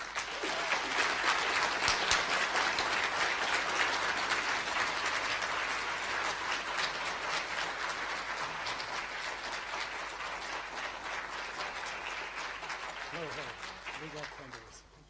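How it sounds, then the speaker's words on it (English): An audience at a veterinary school white coat ceremony applauds, a sustained, dense round of clapping that fills the hall, loud at first and gradually thinning toward the end. "a thunderous round of applause"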